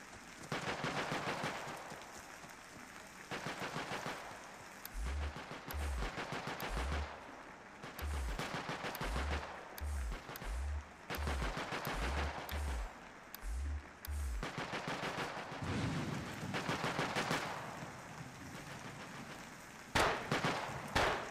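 Bursts of automatic gunfire in a zombie game, quick rattling volleys repeating over and over with short gaps between, fairly near, mixed with heavy low thumps and no talking.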